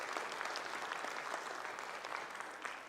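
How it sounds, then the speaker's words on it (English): Steady, dense applause from an audience at a high school marching band showcase, a continuous wash of many hands clapping with no break. "Yeah, you can clap"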